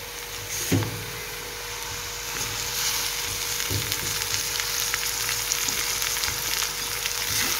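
Tomatoes go into onions already fried pink in a pan for chhole, bringing a steady close sizzle with a couple of soft thuds and stirring knocks; no one speaks.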